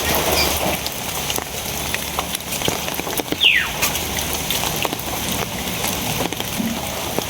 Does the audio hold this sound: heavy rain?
yes